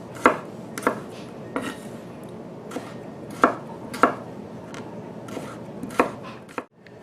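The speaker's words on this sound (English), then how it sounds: "chop them into little tiny cubes, like so" A knife chops radishes into small cubes on a cutting board, a steady series of sharp, close thuds spaced about half a second to a second apart, with no one talking.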